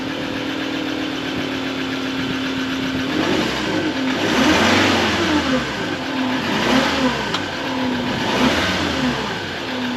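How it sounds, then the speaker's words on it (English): Ford Ranger Wildtrak on its standard exhaust idling and then revved three times, each blip swelling and falling back to a steady idle, close and fairly loud with no voices. "we're just going to give you a little demo of the sound of the exhaust standard"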